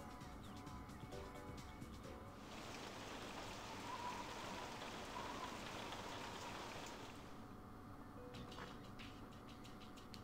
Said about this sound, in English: You are drenched from the rain.